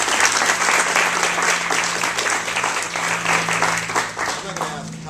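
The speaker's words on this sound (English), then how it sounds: "Let's give her a round of applause." Loud, dense applause from the audience at a mayoral press conference at the Salvation Army, greeting a city volunteer; steady clapping throughout, with a low voice murmuring underneath near the end.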